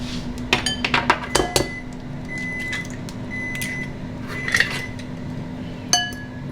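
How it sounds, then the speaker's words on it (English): Protein powder and egg are whisked together in a bowl, giving a quick run of bright metallic clinks and ringing taps near the start, then a few scattered clinks over a low steady hum. "in this bowl, we're gonna do the protein powder and the egg. We'll whisk that together."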